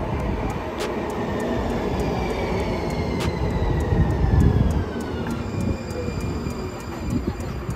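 A LYNX Blue Line light rail train in Charlotte rumbles steadily with broad low-frequency noise and a faint high whine, while clacking ticks repeat at regular intervals.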